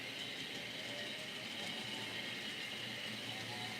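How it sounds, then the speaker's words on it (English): A model work train runs steadily on its track, a continuous rumbling roll with a constant hiss and no talking over it. "That's the work train that I put together."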